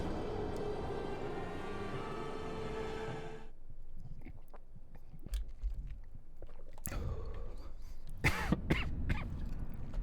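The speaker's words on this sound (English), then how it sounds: "Sorry for coughing in the mic." Several sharp coughs come close to the microphone, with a throat-clearing burst near the end, over a quiet, muffled background.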